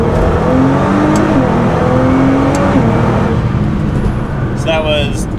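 A tuned Nissan GT-R accelerates hard from 25 to 70 mph, its engine note climbing steadily in a loud, close interior drone and briefly dipping as it shifts, with someone talking over the noise.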